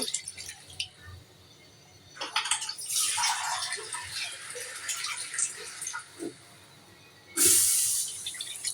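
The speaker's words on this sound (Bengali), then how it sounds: "এখন আমি পানি দিয়ে দিব।" Water is poured into a cooking pot with potatoes: a splashy pour starts about two seconds in and runs for several seconds, then a brief louder hiss near the end, over low background noise.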